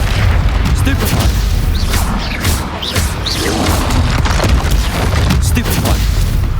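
Bombarda explosion spell blasting in the Hogwarts Legacy video game, a dense, loud run of booming impacts and crashes with rumbling low end, steady throughout with bursts layered over continuous combat noise.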